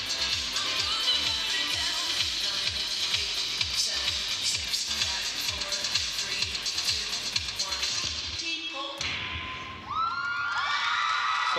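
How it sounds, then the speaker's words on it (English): Crowd cheering and shouting for the Tommy Douglas senior pom team at a city cheer and dance championship, a dense roar over rhythmic music beats that cuts briefly, then the cheering swells back loud. "Getting a good reaction from the crowd out of this palm team too"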